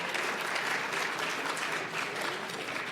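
A conference audience applauds for Omaha, Nebraska, a dense, even roar of clapping held steady at moderate level throughout.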